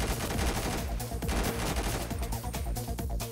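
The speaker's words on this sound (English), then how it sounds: "Yo, I made those shots." Rapid gunfire in GTA 5 makes a dense, loud fusillade of overlapping shots, bursts and echoes that keeps going throughout, with no voices over it.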